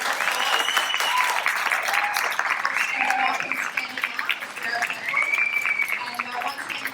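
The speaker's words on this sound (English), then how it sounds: "Please give them a huge round of applause" An audience at a Queensland public sector Wear it Purple panel event applauds the panellists, sustained, even clapping across the whole stretch with a voice or two faintly audible underneath.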